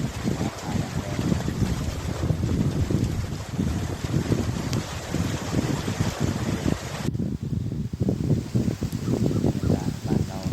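Storm wind blowing hard around a house during a summer thunderstorm, a harsh continuous roar buffeting the microphone with gusty surges, briefly easing partway through before building again.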